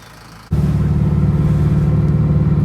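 A Scion FR-S lowered on extreme low coilovers starts rolling: a steady, close, low engine and road rumble swells in suddenly and holds evenly.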